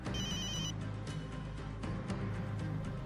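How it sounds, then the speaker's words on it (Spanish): A telephone rings in an apartment with a bright electronic trill, a short burst of repeated chirps heard faintly over a low droning background. "cuando el teléfono sonó"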